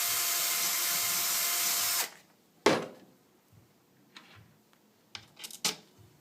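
A power drill with a dull bit bores into a Printrbot bed part, a loud sustained whine for about two seconds, then stops and leaves sharp handling clicks and knocks.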